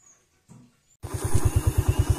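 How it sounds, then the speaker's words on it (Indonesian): A motorcycle ridden along a narrow forest footpath rumbles up after a quiet pause, its engine thumping in a steady, fast rhythm close by and fairly loud. "Ini kita menggunakan motor ya."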